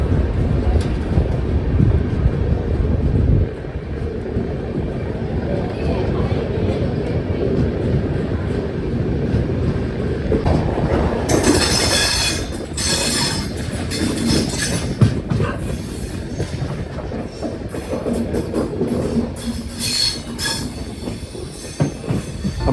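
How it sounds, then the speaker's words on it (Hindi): Mandore Express sleeper-class train pulling away on the Jodhpur–Delhi route, a steady loud rumble of wheels on rails with rising metallic squeal and rattling throughout, no talk. "ये लो खिसक गई ट्रेन।"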